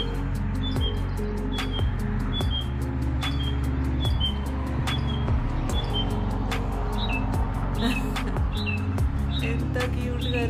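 A small bird chirps repeatedly in a backyard, sharp high tweets arriving in quick irregular bursts over a constant low mechanical hum, with a voice speaking softly in the background.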